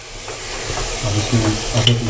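Mutton fries in a pan for korma, a steady bubbling sizzle and hiss close up, with a soft voice murmuring underneath.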